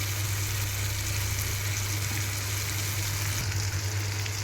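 Chopped tomatoes fry in hot oil for a drumstick sambar, giving a steady, even sizzle that holds at a moderate level for several seconds with no talking over it.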